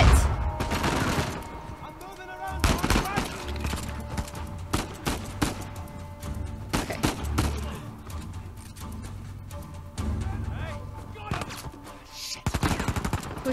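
Rapid gunfire in the video game Uncharted 4: A Thief's End during a ballroom heist, bursts of automatic fire and single shots with thuds scattered across the stretch, moderately loud, with a voice speaking briefly among them.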